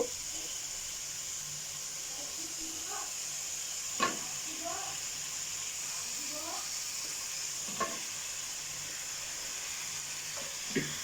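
Curry with greens, cooked without salt, stirred in a pan: a low steady sizzle with occasional scraping strokes and faint talking in the background.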